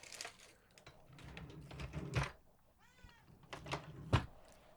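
A young cat gives one faint, brief meow in the middle of a quiet indoor scene. Low rustling and handling noises surround it, with no speech heard.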